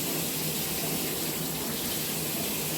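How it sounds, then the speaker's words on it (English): Extremely hot tap water gushes over a glass jar in a sink, a loud, steady rushing stream with no talk. "we'll just run it under some extremely hot water for a little bit"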